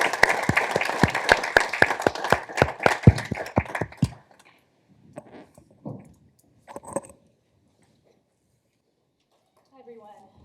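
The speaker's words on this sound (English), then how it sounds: "Let's give them a round of applause as they come up." Audience applause at an economics careers event as presenters come up, a burst of clapping for about four seconds that stops abruptly, followed by quiet with a few faint taps and shuffles.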